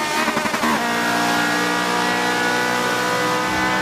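Race cars circle the Monza circuit in Forza 7, a loud sustained engine drone with a steady high whine after a brief burst of fluttering revs at the start.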